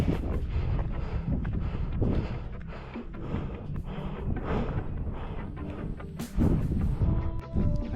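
Wind gusts across the Col de la Pinta, a 2,100-metre mountain pass in the Pyrenees, as a constant loud roar and buffeting rumble against the microphone, swelling near the end.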